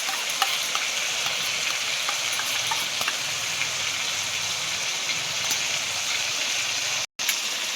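Spices frying in hot oil in a pan, a dense, steady close sizzle with crackling pops throughout and a brief gap near the end, no voices.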